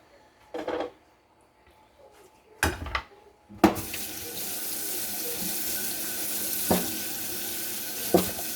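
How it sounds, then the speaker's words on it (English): A few short splashes come first, then a kitchen tap opens and water runs hard and steadily into the sink as it is rinsed out, a close, continuous rushing with occasional clunks. "Rinse the sink out."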